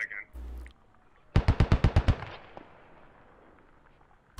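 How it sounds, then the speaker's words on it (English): A rapid burst of about eight sharp explosive pops from grenades in the military shooter game SquadOps, loud and close, followed by a fading rumble, with brief muffled sounds before. "Grenades going out. Those are US grenades."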